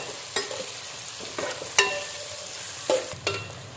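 Cumin seeds frying in a pan for ridge gourd chutney, a quiet sizzle under five or six distinct scrapes and knocks of a spoon against the pan, close up with no talking.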